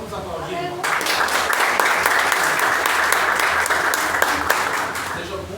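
A church congregation breaks into loud, dense applause during a worship service, starting sharply and holding steady over a low background hum, with some voices mixed into the crowd.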